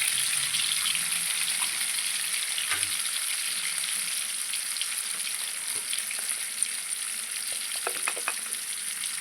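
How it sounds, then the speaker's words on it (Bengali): Vegetables frying in a pan with salt and turmeric for a Bengali shukto produce a steady, close hiss of sizzling throughout, with faint occasional ticks of stirring. "লবণ হলুদটা দিয়ে একটু ভালো করে ভেজে নেব।"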